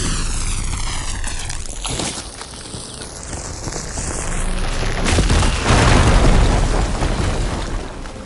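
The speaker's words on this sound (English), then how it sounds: "Should be able to blow up that fire gleam." A fire gleam is blown up in the video game Horizon Forbidden West. A loud explosive boom erupts and rolls into a long, rumbling roar over an electronic whine and ambient game sound.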